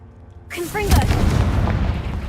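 A Confringo blasting spell explodes in the video game Hogwarts Legacy, a sudden loud burst that booms and then rumbles on with crackling debris and game effects over a steady low roar.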